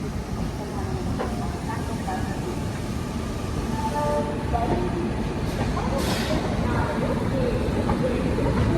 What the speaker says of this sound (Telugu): ఇది మనం చేరుకున్నాం మన సికింద్రాబాద్ జంక్షన్, మన హైదరాబాద్ కూడా